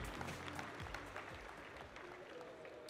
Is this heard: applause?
yes